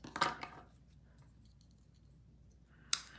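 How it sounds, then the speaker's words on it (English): Scissors cutting through card or paper, a short crunchy snip at the start and another sharp snip near the end, close and quiet, with near silence between. "I don't know if I can rip this, so I'm just gonna cut it"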